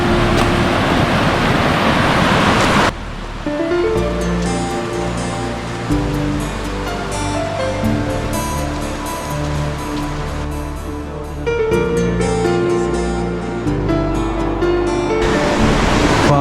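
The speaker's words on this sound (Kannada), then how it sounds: "ಫಾಲ್ಸ್ ಹತ್ರನೇ ಬಂದಿದ್ದೀವಿ." Ayusai waterfall in Kazakhstan roars as a steady, loud wash of rushing water, its broad noise continuous throughout, at times sitting under a layer of tonal background sound.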